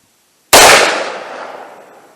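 A single loud, close gunshot from a .357 Magnum revolver firing a 125-grain load cracks sharply out of silence, then rings off in a decaying echo.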